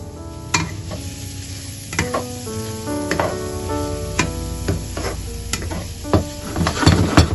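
Finely chopped onion sizzles steadily on a hot plate, with repeated sharp scraping and stirring knocks from a utensil layered over the constant frying hiss, close and fairly loud.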